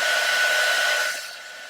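A hair dryer blows on a painted wooden egg, a steady close whooshing hum with a thin whine that drops away near the end as the dryer is switched off.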